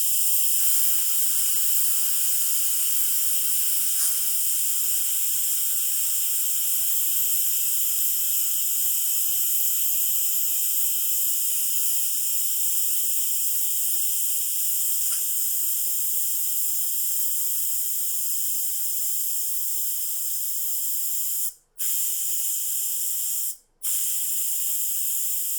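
Steam hisses steadily from the valve of a Kuhn Rikon Duromatic pressure cooker during manual release, a loud, bright continuous rush that briefly cuts out twice near the end.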